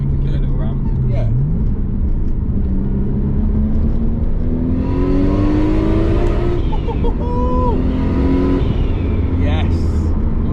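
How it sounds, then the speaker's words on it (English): A Nissan R32 Skyline six-cylinder making 420 bhp from 2.0 litres revs on low boost, the engine note climbing through gears under steady road and wind roar, with people talking over it. "The sound of the 6-cylinder."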